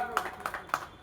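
Audience applause welcoming new members at a BJP party joining event, with several sharp clap bursts over a crowd and a voice talking throughout.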